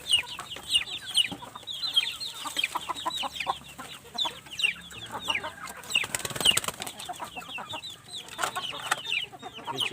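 Breeding hens kept for daily breeding on a farm cluck and call busily, close and continuous, with scattered wing flaps and overlapping chatter from several birds.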